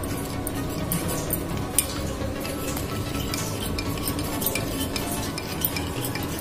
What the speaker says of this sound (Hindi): यहाँ पे 2 स्पून कॉर्नफ्लोर लिया, इसमें वाटर डाल के इसको हम लिक्विड फॉर्म में थोड़ा सा बनाएंगे